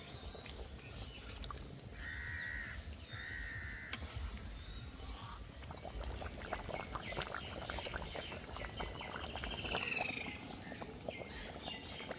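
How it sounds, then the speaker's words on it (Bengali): Water pours into a pan of desi chicken curry, a steady rushing splash that builds and hisses against the hot oil, close and continuous amid faint background bird calls. "এবার জল দিয়ে দেব"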